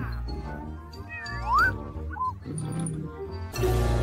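A cat meows a few times over a busy background of music and playful cartoon-like sound effects, fairly loud and close.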